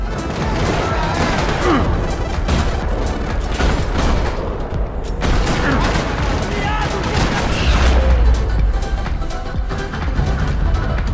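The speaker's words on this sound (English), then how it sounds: "another parking lot rattling with gunfire" Dense, continuous gunfire in the video game Max Payne 3 with rapid bursts and booms fills a parking lot scene, loud and chaotic, with shouting mixed into the din.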